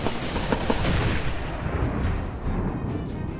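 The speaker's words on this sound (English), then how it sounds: "former Navy SEAL Eric Greitens, sets off an explosion with an assault rifle in his new ad" Assault rifle gunfire setting off an explosion in a political campaign ad, a dense continuous blast of shots and rumbling boom at steady high loudness with no talk.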